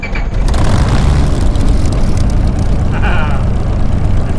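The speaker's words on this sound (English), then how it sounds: "press in the middle and then we will start the engine" Aircraft engine starting up in Microsoft Flight Simulator 2020, rising after a brief moment into a loud, steady broadband roar that holds for the rest of the stretch.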